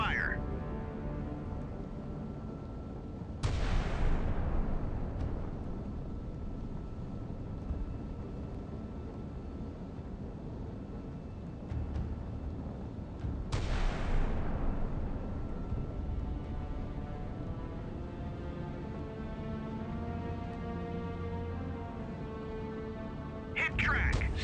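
Two heavy naval gun salvos in the Sea Power warship game, each a sudden loud blast fading into a long rumbling decay about ten seconds apart, with a low engine drone and faint voices in between.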